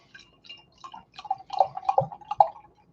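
Triptych Dearest Anna stout beer is poured into a stout glass, giving a series of quiet, uneven glugging drips and splashes, close and without talk.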